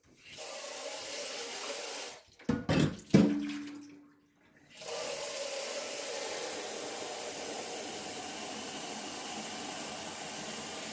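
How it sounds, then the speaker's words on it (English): Tap water runs into a Keurig Duo coffee maker reservoir, a steady hissing rush that stops briefly with some clunks of handling, then resumes as a continuous close stream. "Get the reservoir filled back up."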